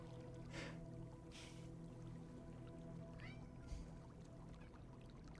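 A cat meows faintly a few times in a quiet room, short rising calls over a steady low hum, one brief chirp near the end.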